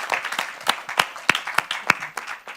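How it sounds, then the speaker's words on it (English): An audience at a live event applauding, a sparse, uneven patter of a handful of hand claps close by, with some quieter clapping and murmur underneath. "can we get a round of applause?"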